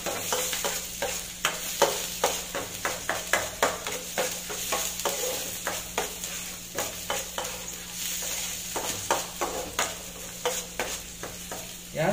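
Okra (lady fingers) frying in a pan with oil and lemon, giving a steady sizzle broken by repeated scraping stirs at an uneven rhythm, close and fairly loud, with no talking.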